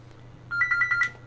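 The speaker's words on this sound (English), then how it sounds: "And that's my phone." A phone rings in a short burst of five quick repeated electronic chirps, fairly clear over a low steady hum, with no talking.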